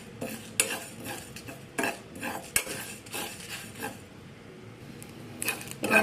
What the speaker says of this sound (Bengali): এখানে সব কিছুকে একটু ভালো করে ড্রাই রোস্ট করে নেব।